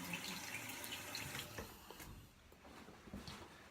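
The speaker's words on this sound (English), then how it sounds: "I can wet my face real quick." Water runs and splashes at a sink while someone wets their face before shaving: a steady close wash of noise with small splashy bursts, and no talking.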